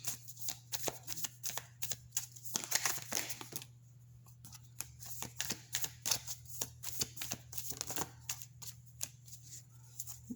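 Oracle cards are shuffled by hand in repeated bursts of crisp riffling and flapping, close and fairly quiet, with short pauses between the rounds of shuffling.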